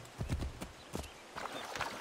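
Horse hooves clip-clop in Assassin's Creed III, a few distinct, close hoofbeats in an uneven rhythm with a faint, brief whinny-like call near the end and no speech.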